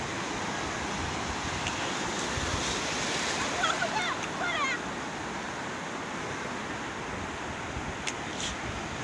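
Steady roar of ocean surf washing onto Golden Beach in Qingdao, China, broad and continuous, with wind buffeting the microphone and faint voices underneath.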